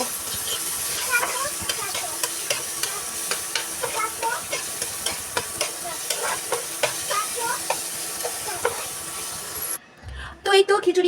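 Garlic, onion and green chillies fry in hot oil for khichuri, a loud close sizzle with rhythmic scraping stirs, then a brief pause and a few clatters at the end.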